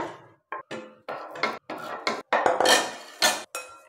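Mango pickle being mixed by hand or spoon with red chilli powder and oil, giving a run of close, bursty scraping and clinking against a bowl in irregular strokes, with no talk.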